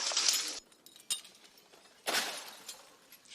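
Broken glass is swept and scraped up outside a building damaged by a blast wave, with gritty bursts of clinking shards separated by quieter pauses.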